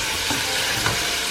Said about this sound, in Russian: Обжариваем мясо до образования золотистой корочки.